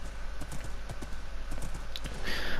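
Horse hooves clip-clop in the Minecraft video game, a quick irregular series of light clops at close range, alone over a soft background hum.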